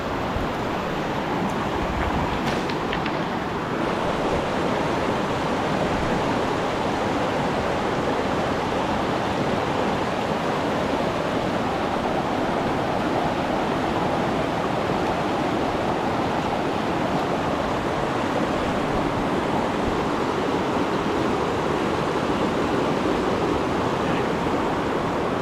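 A river rushes steadily beside a backpacking campsite at Eagle Creek, its broad, even roar of flowing water loud and unbroken, with no voices over it.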